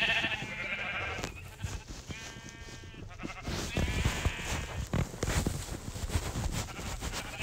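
Sheep in the video game Minecraft bleat over and over, several overlapping calls from a crowded flock, fairly close and loud against a busy, noisy background.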